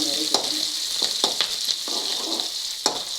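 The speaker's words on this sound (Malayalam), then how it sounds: "പച്ചമുളക്, ഒരു കഷ്ണം ഇഞ്ചി ചെറുതായി അരിഞ്ഞത് ഇവിടെ ഇട്ട് ഒന്ന് വഴറ്റുക" Chopped green chillies and a small piece of ginger sauté in hot oil in a pan for a simple tomato thoran, with a steady close sizzle broken by several sharp stirring scrapes.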